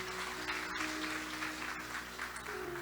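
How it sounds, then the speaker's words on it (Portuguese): A church congregation applauds at a sermon, steady clapping that stays faint and distant under a low hum. "aplauda ao Senhor bem forte"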